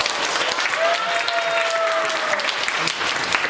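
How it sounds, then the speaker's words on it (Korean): An audience claps warmly and steadily at an orientation event, a dense, even patter of applause with a few voices mixed in. "학술부장님 뜨거운 박수로 맞아주시기"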